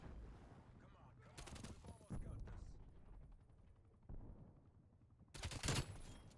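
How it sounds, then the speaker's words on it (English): Close-range shotgun blasts in the Black Ops Cold War video game, two loud broadband bursts roughly four seconds apart amid ongoing gameplay noise and a background voice. "Shotgun at close range."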